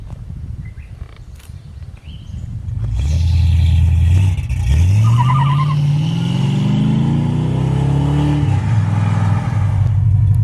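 A 1980 Dodge with a 318 V8 revs loudly and continuously, with rising and falling engine pitch that climbs in several sweeps as it pulls away on a takeoff, close and alone, with no talk.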